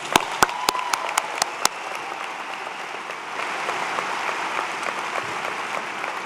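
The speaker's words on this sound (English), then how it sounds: "Round of applause for the faculty." A commencement ceremony crowd applauds steadily for several seconds, a few sharp individual claps standing out at the start before blending into a dense, sustained wash of clapping.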